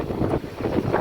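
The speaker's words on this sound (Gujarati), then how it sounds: "એવો પવન છે કે હું જીનું ફેંકાઈ જાય એવો પવન છે અત્યારે. જોરદાર પવન છે." Strong storm wind gusting during a sudden downpour, a steady roaring rumble buffeting the microphone close up with surging low-frequency swells throughout.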